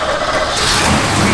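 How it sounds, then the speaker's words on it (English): A 1968 Pontiac Firebird engine with a lopey cam runs close by in a loud, steady, rough rumble with no pauses. "You hear that cam working?"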